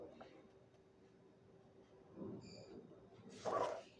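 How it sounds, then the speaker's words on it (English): A big dog barks faintly in the background, with one clearer bark near the end, while a person talks quietly. "whenever that little dog starts yapping, the big dog starts."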